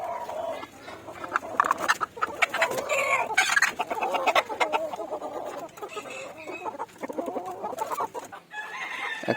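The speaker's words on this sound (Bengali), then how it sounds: "এখন আমি যে 3টা মুরগি ওই খাঁচে ছিল ওইগুলাকে এই খাঁচে দিয়ে দিতেছি" Desi chickens cluck and squawk in a cage close by, with busy overlapping calls and a brief crow-like cry, continuing throughout.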